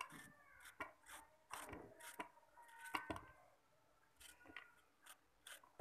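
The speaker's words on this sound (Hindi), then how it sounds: "अब इसे हम इस तरह से पीस में काटेंगे पतला पतला" A knife slices ridge gourd into thin pieces on a board, giving a series of close, crisp cutting strokes in an irregular rhythm with short pauses between them.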